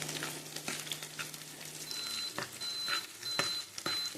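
Onions fry in hot oil with a soft, fairly quiet sizzle, broken by a few sharp stirring clicks and taps, and no talking.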